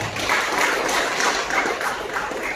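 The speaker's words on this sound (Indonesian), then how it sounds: "Berikan tepuk tangan untuk Tuhan" A church congregation during a Sunday service applauds together, many hands clapping in a steady, even stretch at moderate loudness with no voices over it.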